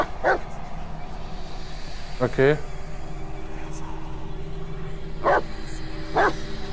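A dog barks in short bursts of two or three yips and woofs, spaced out over several seconds inside the Blair Witch VR video game, moderately close, over a low ambient bed with brief talk from a person.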